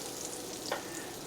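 Butter and salad oil sizzle in a hot frying pan, a faint, steady crackling hiss with one brief stir or scrape partway through and no speech.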